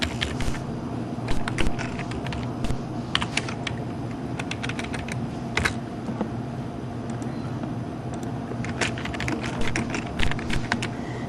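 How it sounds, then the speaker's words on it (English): Computer keyboard keys clatter in quick irregular bursts with short pauses between runs, close up over a low steady background hum. "let me go ahead and type this information in here"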